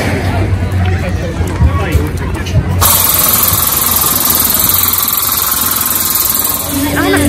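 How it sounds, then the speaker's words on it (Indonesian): An engine runs steadily at a night market in America, a continuous loud rumble under crowd hubbub and nearby conversation, with the din filling the whole stretch. "Ini mesin."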